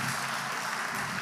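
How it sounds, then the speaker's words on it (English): Audience applause at a live-streamed developer conference, a steady dense wash of clapping that stays even and loud for the whole moment without pauses. "applause for Enet Pulse"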